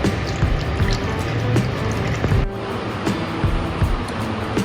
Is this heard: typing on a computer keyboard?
no